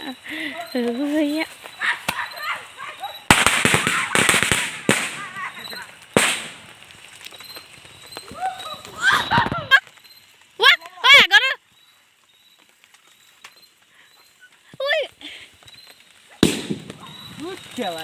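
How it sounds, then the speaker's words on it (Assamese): Diwali firecrackers go off in a few sharp, loud bursts close by, some in rapid clusters, with people talking throughout and quieter gaps between the blasts. "ইমান ডাঙৰ ফটকাটো কি আৱাজ দিছে?"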